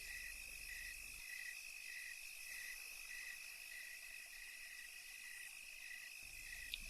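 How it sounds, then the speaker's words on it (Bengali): Crickets chirp on a dark night along a lonely path, a steady high pulsing trill repeating in even bursts, faint and continuous with no other sounds. "কালো অন্ধকারের মাঝে শুধু ঝিঝি পোকার ডাক কানে ভেসে আসছে।"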